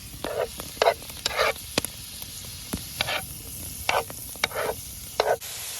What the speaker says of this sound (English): So we're gonna throw in the stir fry medley now.